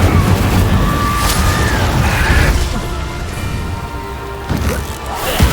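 A booming fiery blast from the Incendio spell in Hogwarts Legacy rumbles loudly amid dense combat noise, with a few sharper crackling bursts rising over the continuous roar.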